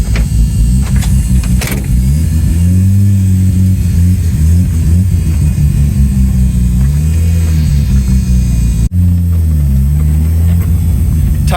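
A four-rotor rotary engine car drones loud and close, its revs rising and falling in smooth sweeps, dipping briefly near the end before picking up again, with no talking.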